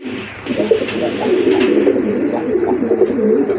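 Iranian golla pigeons coo close by in a continuous, throaty burbling that sounds loud and alone.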